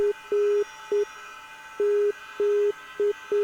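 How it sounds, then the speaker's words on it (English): A VOR radio navigation station's Morse code identifier plays as a steady pure tone keyed into short and long beeps, clean and evenly loud over faint background hum. "That is the Morse code that corresponds to this radio frequency."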